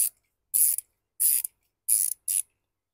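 Socket wrench ratcheting as it loosens the spark plugs on a 2010 Honda Civic: four short, sharp bursts of clicking pawl noise, close up, separated by brief silences, with no voices.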